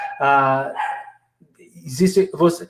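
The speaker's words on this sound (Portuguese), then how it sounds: "Eu vou ter que daqui a pouco dar uma atenção para a cachorrinha aqui, porque ela está latindo demais." A small female dog barks several times indoors, a long high yelp followed by a couple of quicker, sharp barks, loud and close.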